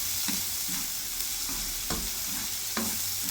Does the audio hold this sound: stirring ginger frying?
yes